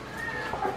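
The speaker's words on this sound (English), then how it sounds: "I think my cat cried." A pet cat meowing outdoors while wanting to come in, a short faint cry heard once at a distance over a quiet kitchen room tone.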